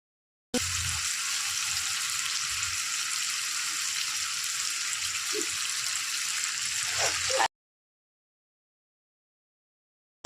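Potatoes frying and being stirred with spices in a pan, a steady hissing sizzle held for about seven seconds with occasional scraping stir sounds, close and even, then cutting to silence.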